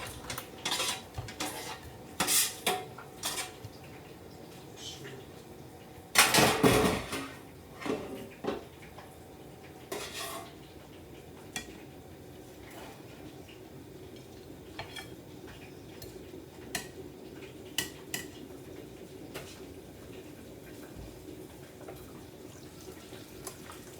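A spoon scrapes and clinks on plates while serving out chips, with quiet intermittent clatter of dishes and one louder burst of clanking near the middle.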